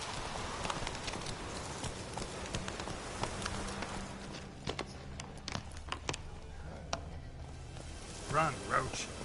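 Roach the horse galloping in The Witcher 3, a steady run of hoof clip-clops carrying under faint background music and game ambience, with a few sharper thuds toward the end.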